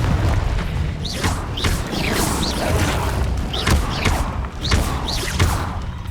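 Repeated blasting-spell explosions in Hogwarts Legacy, a run of loud booms and thuds with whooshing spell effects, coming every half second or so over dense game noise.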